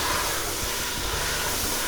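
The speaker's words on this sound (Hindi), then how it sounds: "अब इस पर 4 से 5 साबुत हरी मिर्च, इसको हम 2 से 3 मिनट मज़ीद भून लेंगे" Whole green chilies fry with spices in a biryani pot, giving a steady, close, fairly loud hiss of sizzling oil with no talking.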